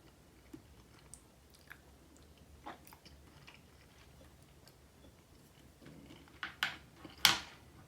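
Someone chews ajillo made with an Ezo brown frog, with soft scattered crunchy bites at first, then several louder close crunches near the end and no talking.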